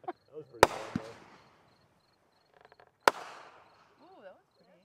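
Fourth of July fireworks bursting at a public display, two sharp loud booms a couple of seconds apart with crackling tails, followed by a rising whistle.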